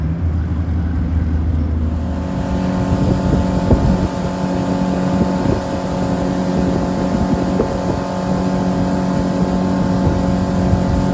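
A boat motor drones steadily throughout, a low continuous engine rumble with slight rises in pitch, loud and close, with no talking.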